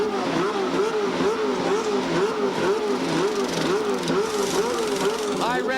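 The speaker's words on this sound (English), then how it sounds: "High revs from the engine" A CART race car engine screams at high revs during a pit stop at Phoenix in 1991, a loud, steady wail with a rhythmic rise and fall, then a sharp climb at the very end, with commentary over it.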